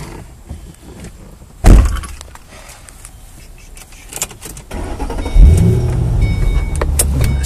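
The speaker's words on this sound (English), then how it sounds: "You hit one button, it'll drop down all the windows for you." Power windows of a 2006 Ford Mustang GT convertible with a 4.6 V8 whirring down, a steady motor hum rising after a sharp clunk and some handling noises inside the car.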